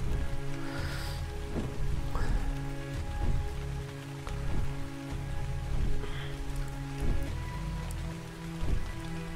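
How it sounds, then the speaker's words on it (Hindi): Steady rain falling in the video game ARK Survival Evolved, a dense continuous patter with intermittent droplet hits and low game tones beneath, no voices. "बारिश रुकने वाली है।"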